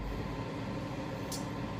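A steady fan whirs at low volume, a constant broadband hum with no talking.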